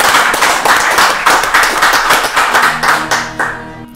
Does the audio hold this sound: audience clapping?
yes